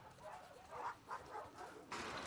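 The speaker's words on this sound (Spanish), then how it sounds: "Hey, you crazy dog." A dog in the video game The Last of Us Part 2 gives a few soft whimpers and small yips, faint and close, set against quiet game ambience with a brief burst of noise near the end.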